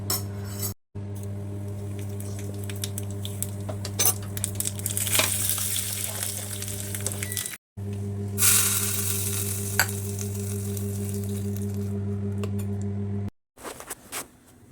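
Breakfast fries in a small amount of oil in a pot, a continuous close sizzle over a steady hum, with occasional utensil scrapes and two brief dropouts.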